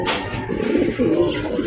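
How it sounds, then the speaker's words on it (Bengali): Soft, close cooing of Polish Lynx pigeons kept for sale, a few low rolling coos in quick succession with faint background noise and no talk. "সুপ্রিয় দর্শক বন্ধুরা, এখানে রয়েছে পলিশ লাইনেক্স কবুতর এটা দেখতে অরিজিনাল পাচ্ছেন।"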